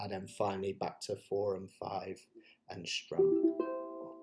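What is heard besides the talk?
None of the usual background noises is heard.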